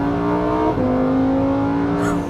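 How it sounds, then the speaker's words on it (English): An angry Italian V10 with 631 horsepower revs hard, its loud, close engine note holding a steady pitch, dipping briefly, then climbing again and flaring at the end. "let's find out what a very angry Italian V10 and 631 horsepower actually sounds like"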